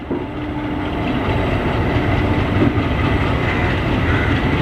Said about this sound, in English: And we are finally departing from Kakinada port station in the Sircar Express bound to Chengalpattu